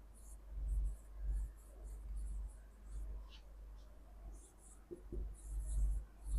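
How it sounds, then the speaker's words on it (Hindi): Marker or pen writing on a board during an English grammar lesson: faint, repeated short scratchy strokes in bursts, heard close over a low room hum, with no clear talking. "एक और लिखते हैं,"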